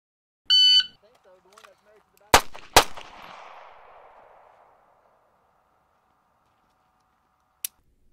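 An M9 pistol fires two sharp, loud shots in quick succession at a target, the second trailing off in a long reverberant decay across a range, preceded by a brief electronic beep signal and followed by a lone click.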